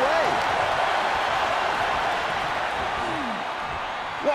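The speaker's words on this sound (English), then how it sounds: "What a raucous crowd here tonight." A dense, steady roar of arena crowd noise from the WWE 2K24 wrestling video game fills the whole stretch, loud and continuous with a faint edge of applause, while a commentator talks over it.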